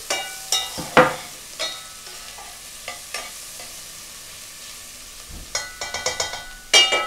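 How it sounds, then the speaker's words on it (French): Onions heating in a pan give a soft sizzle, broken by sharp scrapes and clacks as a utensil stirs them at irregular intervals, with a cluster of stirring near the end. Nobody speaks. "fait chauffer les oignons"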